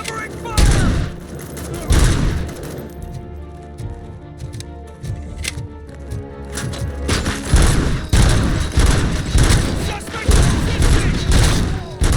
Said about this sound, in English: Cover me! Covering fire!